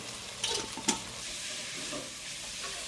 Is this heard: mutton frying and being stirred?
yes